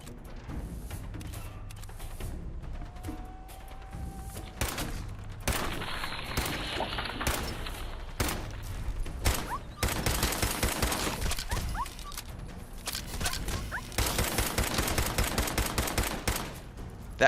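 Gunfire from a weapon in Fallout 4, with bursts of rapid shots coming in clusters, loud and dense in two long stretches amid other game noise.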